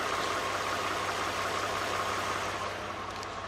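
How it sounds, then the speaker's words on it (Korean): Gasoline 3.5-litre V6 in a premium imported SUV idling, a steady, quiet low hum with faint mechanical texture, continuous and even with no voices over it. "엔진 소음 먼저 들려드리면은"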